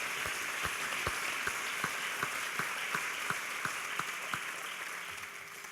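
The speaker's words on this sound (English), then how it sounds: "So how about just another round of applause for the PDC being out here in East Portland making this happen." Audience applause at an East Portland summit keynote, a dense even patter of clapping with regularly spaced sharper claps running throughout at moderate volume.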